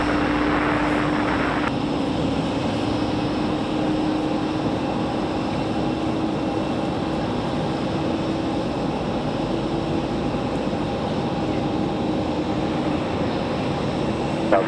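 A jet airplane on approach to runway 5 right at Raleigh-Durham airport produces a loud, steady engine roar that holds throughout without a break.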